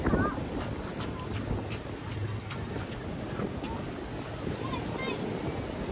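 Surf washes continuously onto White Beach at Puerto Galera, a broad, steady roar of breaking water with a touch of wind and faint background voices.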